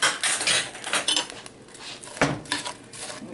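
Peaches being mashed in a pot for canning preserves, heard as a run of clinking, scraping utensil strokes against the pot, close and moderately loud, with a brief lull midway before the strokes resume.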